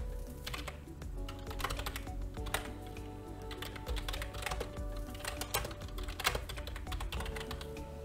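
Steady typing on a computer keyboard, quick irregular key clicks close by, continuing throughout without speech.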